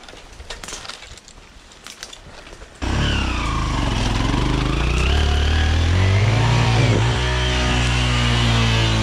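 A Minsk X250 motorcycle engine starts up abruptly after quieter rustling and holds a loud, steady close-up rumble that rises in pitch as it revs, with no voices.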